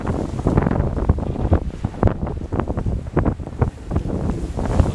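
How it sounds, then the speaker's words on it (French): Waves slam against a racing sailboat at sea as the wind strengthens, heard as irregular heavy thumps and splashes over constant roaring wind buffeting the microphone. "Avec les vagues qui tapent comme ça."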